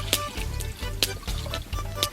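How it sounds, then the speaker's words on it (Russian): About a liter of cold water pours into a kazan cauldron, a close, faint trickle and splash broken by brief louder spills. "Вот наливаем мы примерно литр холодной воды."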